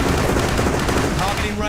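Unit weapons fire in the 2006 PC strategy game War On Terror as a dense, loud burst of rapid machine-gun shots, a continuous rattling barrage that runs for the whole short moment with no pause.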